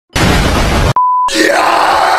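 A steady electronic beep tone sounds once for about a third of a second, loud and clear, sandwiched between bursts of loud broadband game noise.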